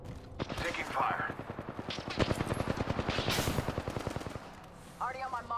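Automatic gunfire in the Apex Legends video game, a long rapid burst of closely spaced shots fired nearby, loud and sustained for several seconds, with a brief voice at the end.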